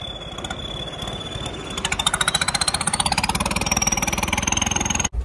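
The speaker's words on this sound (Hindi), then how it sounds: "लो जी ट्रैक्टर पहुंच गया अपना शॉप पर" A Swaraj 855 tractor's diesel engine chugs in a loud, rapid, rhythmic thump that grows stronger midway as it pulls up at a workshop, with a steady high whine running through it.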